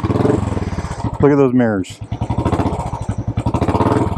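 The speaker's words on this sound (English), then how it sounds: "2016 Royal Enfield Classic 500. Let's see if we can get it to start." A 2016 Royal Enfield Classic 500 single-cylinder pushrod motorcycle engine idles close with a loud, even thumping beat and a brief rev, while someone talks over it.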